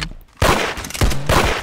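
A burst of gunfire from a Webley gun in the Arsenal video game, loud and close, with two or three sharp reports in quick succession over dense game noise.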